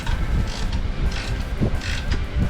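A wrench on a 17 mm ball joint nut of a Honda CR-V sounds in close, repeated ratcheting clicks and metallic creaks as it works the nut loose, with no talk.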